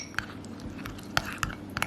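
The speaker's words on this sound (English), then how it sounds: "I'm gonna go ahead and mix that up with my baby spoon." A baby spoon clinks against a bowl while stirring keto cereal into boiling water, giving a few sharp, close metallic taps scattered over a quiet background.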